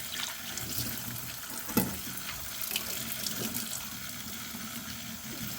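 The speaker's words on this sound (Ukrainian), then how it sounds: "я зараз це все промию холодною водою" Cold tap water runs steadily into a sink with splashes and a brief clunk as meat is rinsed under the stream, close by.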